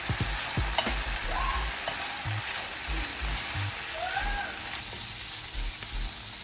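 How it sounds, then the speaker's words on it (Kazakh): Champignon mushrooms fry with chicken in a pan, giving a steady close sizzle with intermittent stirring and utensil scrapes and knocks. "Шампиньон саңырауқұлақтарын салып, тауық етімен бірге 10-15 минут қуырамыз."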